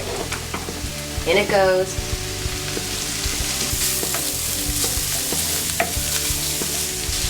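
Chorizo hits a pan of translucent onions and sizzles loudly and steadily, with scraping and clatter as it is stirred in. A voice speaks briefly near the start, and a rising squeal sounds early on.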